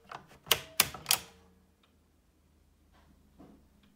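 An AEG Mignon 4 typewriter's paper feed lever clacks three times in quick succession, followed by faint mechanical ticks in a quiet room.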